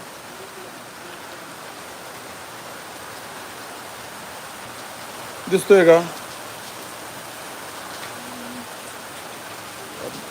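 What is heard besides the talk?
heavy rain falling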